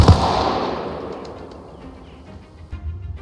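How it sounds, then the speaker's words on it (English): A grenade blast in the military shooter Arma Reforger booms loudly at the start, then its rumble fades into a long, crackling tail with scattered faint distant pops. "Lima's engaged Dunce and just popped a nade on this point."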